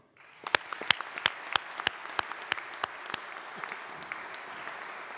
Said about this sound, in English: So get a big round of applause for them too.